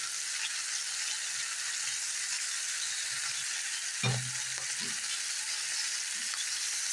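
Peppers go into a frying pan of Egyptian-style sausage. A steady, close sizzle runs throughout, with a brief thump and a burst of louder crackle partway through as the peppers land.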